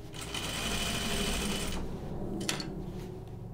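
A sewing machine stitches denim bibs in a fast, steady mechanical whir for a couple of seconds, then stops, followed by a few small clicks and handling noises close by.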